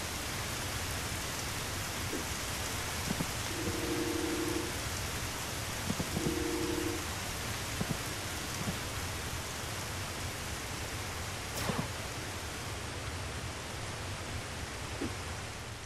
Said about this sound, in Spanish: Mira qué pedazo de lluvia.